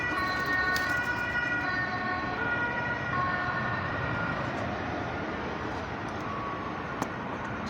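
An ambulance siren wails steadily throughout, mid-distance, over a continuous roar of outdoor background noise, with no speech.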